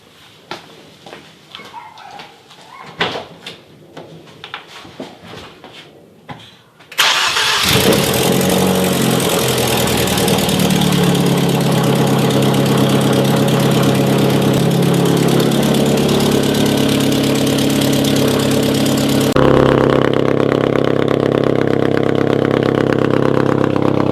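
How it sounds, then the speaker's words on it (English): A car engine with a misfiring cylinder cranks and catches after some handling noises, then settles into a loud, steady, close-up idle that runs on for many seconds with a slight change in tone near the end. "I have to fire it up. The engine's probably going to be shaking and everything."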